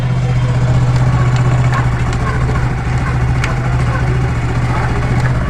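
A motorcycle engine, freshly carburetor-tuned, idles at slow RPM with a steady, close, loud low throb that holds even and unbroken throughout.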